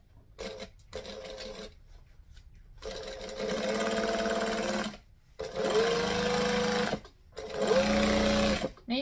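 Sewing machine stitching a print panel beach bag, running in three long bursts with short pauses between, close and steady with a whirring hum.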